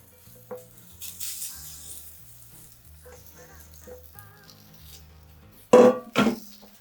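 Okonomiyaki batter poured into the center of a hot frying pan gives a soft, faint sizzle, with light clinks of utensils throughout and a brief louder burst of sizzling and clatter near the end.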